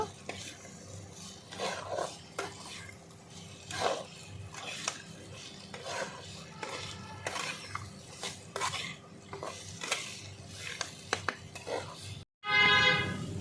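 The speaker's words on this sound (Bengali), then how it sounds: "এবার আমি সিদ্ধ করা আলু আর ছোলাটা দিয়ে দেবো একসঙ্গে ভালো করে আরও দু তিন মিনিট কষিয়ে নেব" Boiled potatoes and chickpeas being stir-fried with spices in a pan for a kasuri methi potato-chickpea curry, with steady scraping and stirring strokes over a low sizzle, a spoon clinking on the pan, and a sharp burst near the end.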